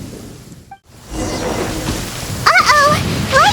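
Stormy weather in Genshin Impact: a steady broadband wash of rain runs under a voice speaking throughout, with a brief hush before the rain surges back.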